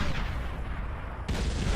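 Massed plasma cannons fire in the real-time strategy game Beyond All Reason, a dense roar of overlapping blasts that jumps louder partway through.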